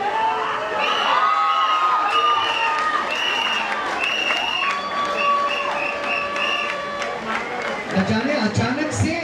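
A stadium crowd at a cricket quarter-final screams and cheers loudly in the stands, a dense continuous roar of many voices with shrill shouts, while a commentator talks over it.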